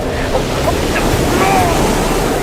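Strong wind roars continuously against the microphone in a dense, steady rush, with faint tonal whistles beneath.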